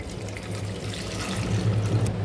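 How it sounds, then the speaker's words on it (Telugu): Water pours steadily into a pressure cooker holding a raw mango, a close, continuous splashing fill that grows slightly fuller toward the end, with no talk. "ఇప్పుడు 300 ml వాటర్ వేసుకోవాలి"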